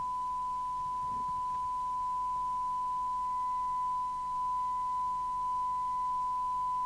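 A steady test tone from a signal generator, heard through a Fidelity CB2001FM CB radio receiver under repair and alignment, holds one unchanging pitch at moderate level throughout, with faint low background hum and no talking.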